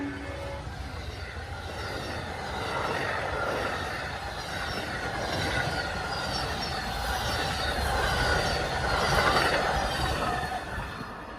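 Amtrak Floridian sleeper train running along the rails, a continuous rumbling rush with rhythmic wheel clatter and intermittent squeal, steady and fairly close throughout with no voices.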